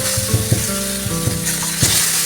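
Hilsa fish fry in hot mustard oil, sizzling loudly and close. A continuous hiss carries rhythmic bubbling pops and crackles at a fast, uneven pace, with no talk.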